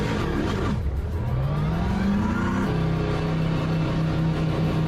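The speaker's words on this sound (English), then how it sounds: "this is not what a Mustang sounds like" Simulated Mustang race car engine in the Le Mans Ultimate racing game, a loud steady drone that climbs in pitch through the gears with a sharp shift partway, alone without talk.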